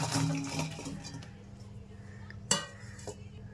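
Raw mango pieces tumble into a steel bowl with a soft clatter at first, then a sharp metallic clink a little later, close and fairly quiet, with no voices.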